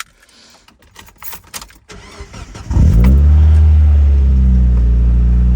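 Mazda Miata NB with new spark plugs starting up: keys rattle and a few clicks, then the starter cranks briefly and the engine catches into a loud, steady idle that holds to the end.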